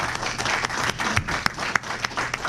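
A safety meeting audience gives Kevin a round of applause, a dense, moderately loud patter of many hands with a few sharper claps standing out, continuing evenly throughout.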